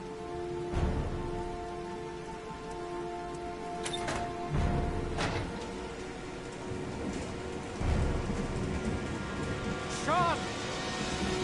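Heavy rain falls steadily on a surface, with soft hiss and occasional low rumbles of distant thunder; a person speaks quietly at moments over the downpour.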